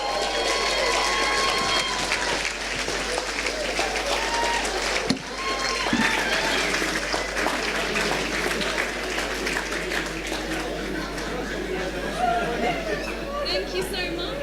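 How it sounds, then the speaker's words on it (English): Sustained applause from an audience at an enterprise awards ceremony, a dense steady patter of clapping with crowd chatter mixed in, continuing for the whole stretch with one brief dip midway. "So a round of applause."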